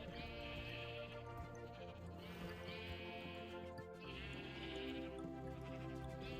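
Sheep bleat in a Minecraft TerraFirmaGreg modpack game, two or three drawn-out calls repeating over a steady layered game soundtrack.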